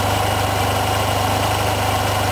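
A cold motorcycle engine idles during carburetor synchronization with a Morgan CarbTune fitted, giving a loud, steady, continuous drone with a low throb close by and no voices.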